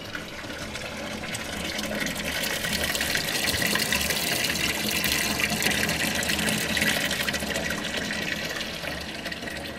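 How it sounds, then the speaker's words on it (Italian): Water leaking and gushing from open water pipe hoses in a derelict building, a steady, loud rushing spray lasting the whole stretch, close by and with no talking. "Qui c'è una perdita d'acqua,"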